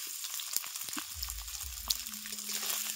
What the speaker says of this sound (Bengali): সয়াবিনগুলোকে একটু ভালো মতো ভেজে নিতে হবে